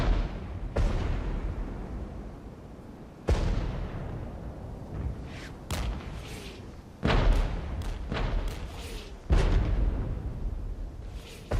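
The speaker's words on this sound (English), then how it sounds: "the artillery's still coming down" Artillery fire in the video game Regiments lands in a heavy barrage: five deep, booming impacts arrive at uneven intervals, each trailing a long rumbling decay. The explosions sound moderately distant, with no talk over them.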